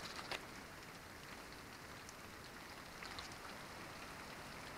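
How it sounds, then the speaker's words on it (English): Steady rain falls during a December thunderstorm, a dense continuous hiss of drops on surfaces, even and unbroken throughout with no voices. "Look at that rain coming down."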